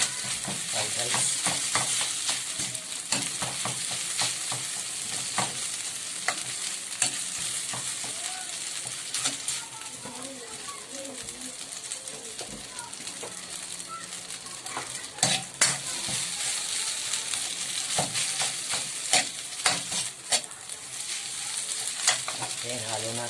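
Chicken cubes and rice stir-fried in a pan, with a steady broadband sizzle and frequent sharp scrapes and clinks of a spatula against the pan throughout, fairly close, with no talking.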